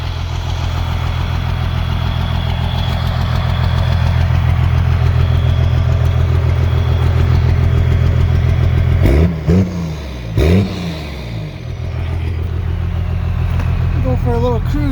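A Cummins turbo diesel engine, just started in a heated shop after sitting under deep snow, idles with a steady low rumble throughout. Someone speaks briefly near the middle while the engine keeps running.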